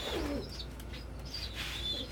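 Soft bird calls, cooing and peeping like pigeons or doves, carry through a fairly quiet indoor space across about two seconds, with a few chirps near the start and a faint rustle of wings.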